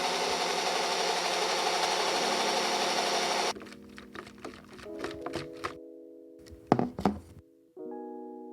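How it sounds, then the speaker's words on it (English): A blender whirs steadily for a few seconds, blending a Baileys and vodka cocktail with ice, then cuts off, followed by scattered knocks, clinks and brief thuds as the jug is handled. "It's time to blend that beautiful mix."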